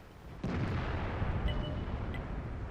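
In the tank game World of Tanks, a heavy gun shot booms with a sudden deep blast, followed by a sustained rumbling roar and a couple of faint metallic pings, with no voices.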